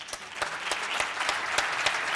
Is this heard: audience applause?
yes